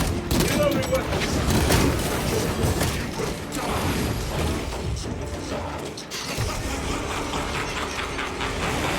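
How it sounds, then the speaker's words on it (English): Mechanical clicks, clacks and ratcheting of weapons being reloaded in the video game Warhammer 40k: Space Marine 2, over bursts of gunfire and faint voices. "Reloading weapons."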